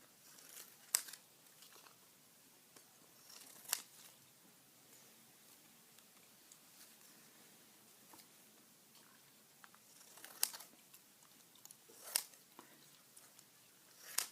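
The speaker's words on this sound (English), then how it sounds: "just to listen to the scissors snapping" Scissors snip through paper Vons Monopoly tickets in a quiet room, giving a few sharp, isolated clicks and crinkles spaced several seconds apart with long hushed gaps between them.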